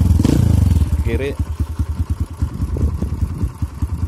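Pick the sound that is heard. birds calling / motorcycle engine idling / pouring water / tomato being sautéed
motorcycle engine idling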